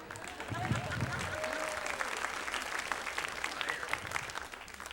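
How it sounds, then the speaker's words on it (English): A comedy-show audience gives a fairly quiet round of applause, scattered clapping holding steady for several seconds, with a few voices and a brief whistle-like tone mixed in. "Can you give a round of applause for this inanimate object right here?"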